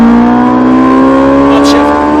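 A Ferrari 458 Italia at full throttle on a Speed Vegas track, close and very loud: a high, strained engine wail that climbs steadily in pitch without letting up.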